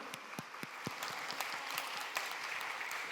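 A church congregation breaks into applause during a Sunday service, many hands clapping at once in a dense, steady patter with a few sharper individual claps, heard at a moderate distance and fairly quiet.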